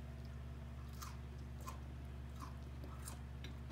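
Someone bites and chews crispy oven-baked okra coated in seasoned flour, giving a few soft, faint crunches at irregular intervals over a steady low hum.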